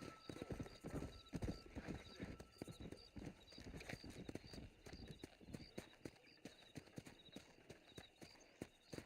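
Horse galloping in Red Dead Redemption, a rapid steady clip-clop of hooves close up, with a brief neigh and no talk over it.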